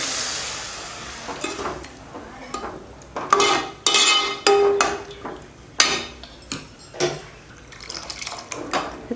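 Water is poured into an eggplant, potato and tamarind curry in a pan, then a spoon stirs it, scraping and clinking in repeated bursts with wet sloshing between strokes.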